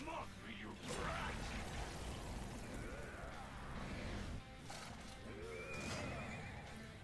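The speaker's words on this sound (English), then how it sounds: "He spawned a horse." Horse neighing in the Persona 5 video game, a loud whinny with clip-clop hoofbeats and game effects, with brief voice sounds mixed in.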